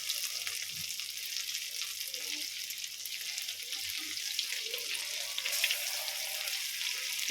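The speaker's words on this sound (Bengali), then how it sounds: "ডুবিয়ে আমি তেলে ভেজে নেব।" Batter-coated stuffed eggs sizzle steadily in a pan of hot oil, a continuous bubbling crackle at moderate volume with faint clinks of turning, and no talking.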